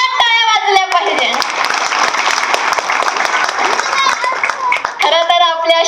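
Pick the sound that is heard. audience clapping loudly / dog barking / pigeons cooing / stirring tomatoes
audience clapping loudly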